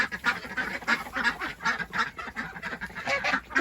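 A flock of ducks housed in a poly tunnel with chickens and geese gives rhythmic, honking quacks close by, calls following one another steadily for several seconds.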